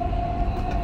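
A Dubai Metro train runs with a loud, steady low rumble of wheels and carriage noise, plus a sustained whine, heard from inside the car.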